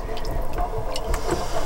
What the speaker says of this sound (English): Shower time for Isla